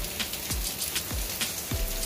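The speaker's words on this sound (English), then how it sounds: "but it's raining." Steady rain falls outside on a car workshop setting and makes a constant wash of hiss and patter. Occasional sharper drips land nearby.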